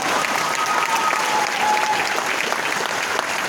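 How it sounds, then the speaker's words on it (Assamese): An audience claps together in a steady, dense roar of applause that holds at even loudness for several seconds, with a voice faintly audible underneath. "তালি মাৰো"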